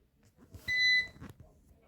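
An electronic device beeps during a power outage in a home amid a snow and ice storm: a single loud, high steady beep lasting about a third of a second, with faint room noise and soft movement around it.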